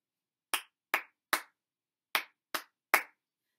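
Six sharp hand claps ring out alone in a quiet room, in two groups of three with a short pause between, each clap crisp and close.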